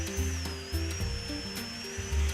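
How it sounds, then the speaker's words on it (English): A power drill with a metal bit bores holes through inexpensive metal spoons over scrap wood, a steady high whine with motor hum that surges and dips in short bursts, close and fairly loud, no talking. "I want to drill a small hole at the top of the spoon and a small hole at the bottom using a drill bit used for metal"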